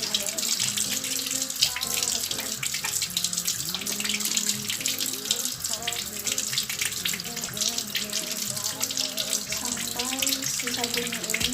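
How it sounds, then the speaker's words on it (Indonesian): Tap water runs continuously over soapy hands in a sink as they are rinsed clean, a steady close splashing and gushing with shifting tones as the hands move under the stream. "Setelah itu kita cuci sabunnya dengan air"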